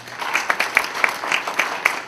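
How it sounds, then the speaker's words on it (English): A round of applause at an honoring event for Queens JEP, steady overlapping claps from a gathered crowd with a few sharper hand claps standing out, fairly close and even throughout. "So I'd like to give a huge round of applause for JEP for that."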